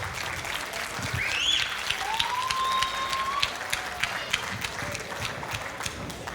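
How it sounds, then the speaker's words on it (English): Wedding reception guests applaud in a steady spread of clapping and cheering, moderately distant, with a few whoops and whistles rising above the crowd. "a round of applause for my dad. Let's hear it."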